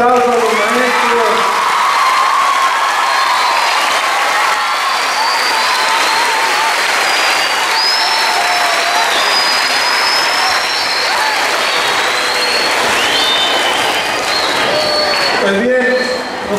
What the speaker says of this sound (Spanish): Vamos a darles un fuerte aplauso a los maestros.